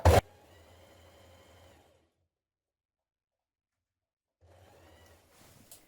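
A sewing machine stitches a waistband onto a summer dress bodice (Burda 6549), running in two steady whirring bursts separated by a silent pause, with a sharp click at the start.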